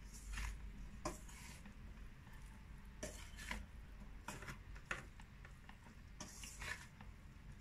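Flour is stirred into a pan of cauliflower, a soft scraping and rustling repeated in short strokes, faint and close, over a low background hum.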